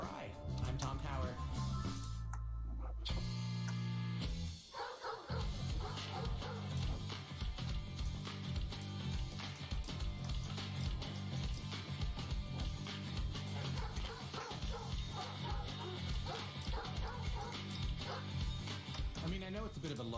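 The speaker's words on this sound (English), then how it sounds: "those have to be the most famous dog barks in rock music history" Dog barks sampled in a rock song, yapping over a loud, dense full-band mix with guitars and drums that runs throughout, after a brief break near the start.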